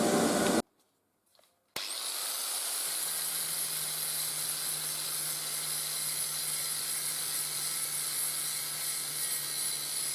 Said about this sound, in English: It made a lot of dust in here, so I've had to put the fans on.